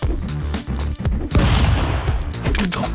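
Rapid bursts of gunfire from the Stick Fight video game, dense overlapping booms and cracks that swell into a sustained loud barrage near the middle, mixed with game sound.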